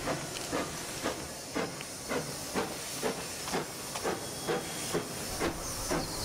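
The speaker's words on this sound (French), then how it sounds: "au souffle rauque et au rythme régulier du train à vapeur" A steam locomotive at Cayeux-sur-Mer hisses steadily while rhythmic chuffs puff along at an even pace, a continuous breathy roar with regular beats.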